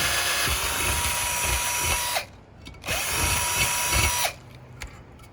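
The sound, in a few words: drilling through thick gauge steel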